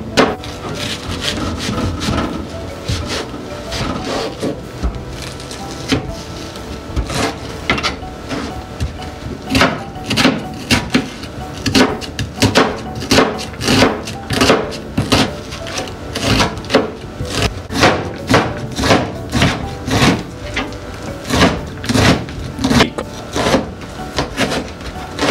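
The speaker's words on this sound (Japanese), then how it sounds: "ではまずはこの野菜たちを切っていきます。" A knife chops and slices vegetables on a wooden cutting board for gapao rice, giving loud, close, steady chopping strokes that speed into rapid runs with brief pauses between batches.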